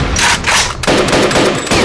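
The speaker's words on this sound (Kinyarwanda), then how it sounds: "sasa barashora amasasu" Loud, close bursts of rapid automatic gunfire in a dubbed action film, two or three dense volleys back to back with brief breaks between them.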